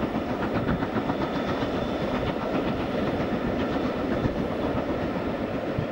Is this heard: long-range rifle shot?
no